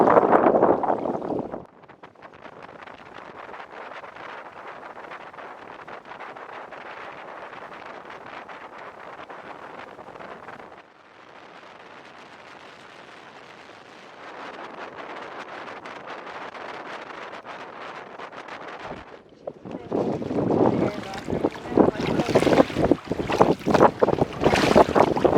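A boat moves across open water under heavy wind buffeting the microphone, a continuous rushing roar that dips quieter midway, then returns louder with gusty bursts near the end.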